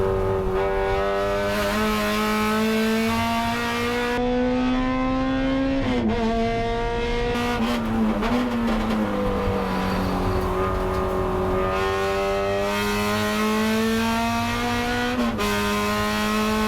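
Race cars circling a track during a racing event, engines droning loudly and continuously with rising and falling pitch as they pull away and shift.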